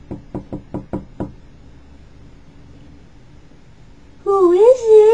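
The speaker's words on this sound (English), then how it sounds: "he knocked on the door." The big bad wolf raps on Grandma's door in a storybook tale: six quick, evenly spaced knocks up close, followed by a quiet pause and then a sudden burst of music.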